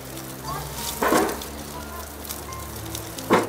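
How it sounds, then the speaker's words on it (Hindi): Bread slices frying in hot ghee for a Pahadi shahi tukda sweet, a steady close sizzle running throughout with a couple of brief louder bursts of crackle. "घी हमारा गरम हो गया है, अब इसमें हम ब्रेड डाल के उसको पकाएंगे, फ्राई करेंगे"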